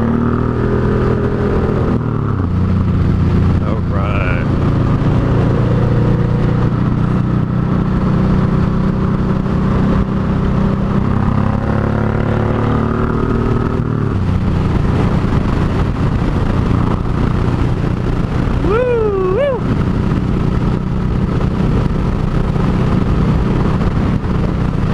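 A Harley motorcycle ridden on the road, its engine droning steadily and loud throughout with rising and falling revs as it shifts and accelerates, wind and road noise around it, no talk.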